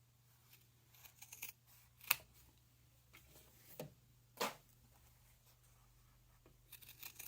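Scissors trim the fabric seam allowance of a sewn clutch purse, making a handful of sharp, close snips spaced unevenly over a quiet background hum.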